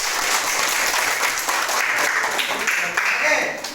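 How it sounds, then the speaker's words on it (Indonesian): A classroom of students claps together after their presentations, a busy wash of applause running throughout, with a teacher's voice talking over it in places. "kita tepuk tangan"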